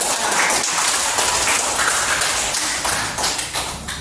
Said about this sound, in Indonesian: tepuk tangan buat Yuni